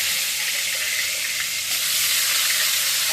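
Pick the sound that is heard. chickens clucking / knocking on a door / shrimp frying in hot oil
shrimp frying in hot oil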